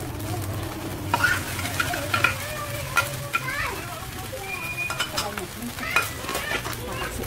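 A spoon stirs and scrapes through cooked rice with minced carrot and sweet corn in a hot pan, soft sizzling beneath repeated stirring strokes, with faint voices and background chatter nearby.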